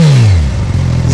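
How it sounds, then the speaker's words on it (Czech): A Suzuki Katana GSX-S 1000 motorcycle with its K5-type engine sits in neutral as the exhaust blips and drops back, a loud, close, deep rumbling growl settling into a rough idle. "Vejfuk má nádherný zvuk, to vám pustím rovnou."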